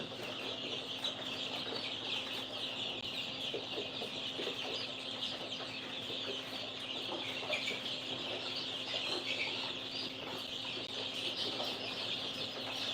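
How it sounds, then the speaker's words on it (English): Chickens cluck continuously inside a chicken house, many birds murmuring together in a steady, moderately faint chorus over a constant low hum. "We made it to the chicken house."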